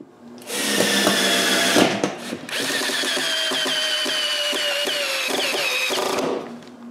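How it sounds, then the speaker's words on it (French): A power drill drives screws into a glued wooden frame, a loud close whine that ramps up, pauses briefly, then runs steadily for several seconds before winding down. "on les colle et on les visse ensemble"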